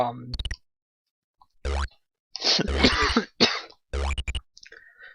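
A few close coughs and throat clears break the quiet, mixed with short bouncy sound effects from the game Crystal Caves and brief clicks.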